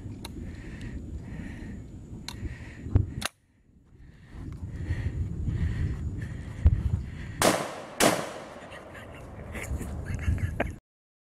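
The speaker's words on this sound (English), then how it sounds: "I'm going to shoot it from the hip this time." A St-Etienne 12 gauge French double barrel coach gun fires from the hip: two sharp, loud blasts in quick succession, set against quieter background noise.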